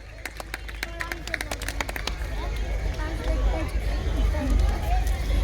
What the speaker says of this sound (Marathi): please big round of applause for them